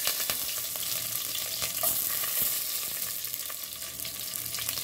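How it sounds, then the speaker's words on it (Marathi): Mustard seeds, cumin, curry leaves and garlic sizzle in hot oil, a loud, continuous hiss with small sharp crackles and pops throughout. "मोहरी चांगली तापते, जिरे टाकून देऊया, कढीपत्ता टाकून देऊया आणि लसूण टाकून देऊया"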